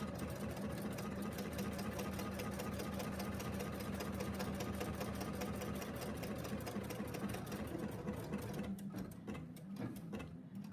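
A Pfaff Icon embroidery machine runs steadily as it bastes fabric down in the hoop, a continuous close, loud mechanical whir with a rapid needle rhythm that eases slightly near the end.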